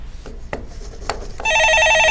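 A telephone rings on a Korean stock-market call-in broadcast: a few soft rubbing and handling knocks, then a loud, steady electronic ring sets in.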